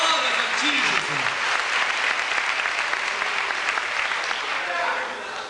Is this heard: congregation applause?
yes